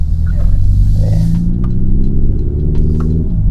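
A Hyundai N-Line car in N drive mode revs its engine, giving a loud, deep, steady rumble with a rising, rough mid-range tone and no talk.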